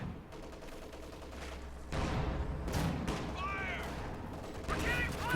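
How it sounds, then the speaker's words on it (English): Mortar half-track shelling in Company of Heroes 2, with booming impacts and crackling battle noise through a dense war-game soundscape, a low rumble building after a couple of seconds and brief whistling tones near the end. "Mortar half-track is bombarding something."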